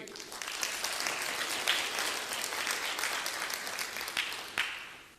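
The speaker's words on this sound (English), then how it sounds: "can I have a round of applause for my team?" An audience at a lighting seminar claps for the presenting team, a full, steady round of applause from many hands with a couple of sharper nearby claps standing out before it fades slightly at the close.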